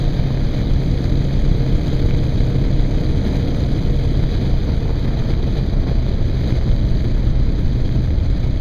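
Constant loud wind rush and engine drone from a KLR motorcycle riding along an open valley road in New York State, steady and unbroken throughout.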